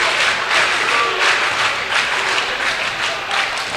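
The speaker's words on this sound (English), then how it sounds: "you hear that Cougar clap" A basketball crowd claps in a loose rhythmic wave at a high school game, dense and steady with some crowd noise mixed in.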